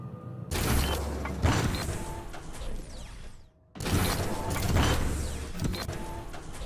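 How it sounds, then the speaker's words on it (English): Heavy doors in the video game De-Void grind and rumble open in two long mechanical bursts with creaks and low booms, a short drop to near silence between them. "Those doors now sound really violent."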